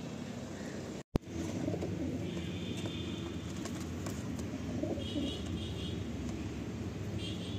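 Pigeons in a full loft of Madrasi birds, steady low cooing and rustling close by over a constant hum of nearby road traffic, with a brief loud knock near the start.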